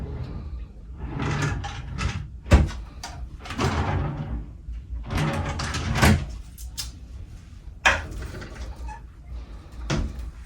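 Drawers in a balcony cabin of the cruise ship Carnival Panorama being pulled open and pushed shut, a series of sliding rumbles and sharp knocks spread across the span, close and fairly loud.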